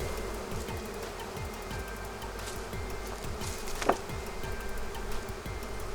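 Honeybees swarm around a garden beehive, producing a loud, steady, close buzz with individual bees droning past and one sharp tap or click near the middle.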